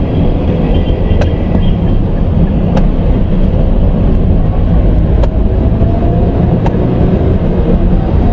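A manual car's engine and road noise while slowing and shifting into second gear, a loud continuous low rumble with a few faint ticks, heard from inside the cabin.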